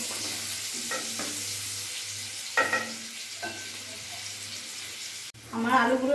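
Potato pieces frying in oil with salt and turmeric until reddish, a steady low sizzle with occasional stirring clatter, a louder burst of sizzling near the end.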